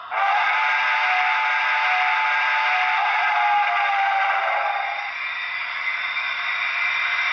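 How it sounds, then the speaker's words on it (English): A sustained, steady steam whistle chord from a Broadway Limited NYC Niagara S1b 4-8-4 model steam locomotive's Paragon 3 DCC sound system, multiple layered tones, loud and continuous for several seconds, pitch shifting slightly near the end. "We'll go back to the steam whistle for the default setting here"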